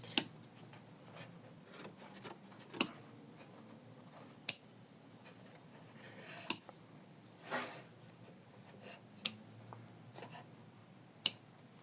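Scissors trim around an in-the-hoop embroidered fabric ornament, making sharp isolated snips at irregular intervals, close and fairly quiet against a still background.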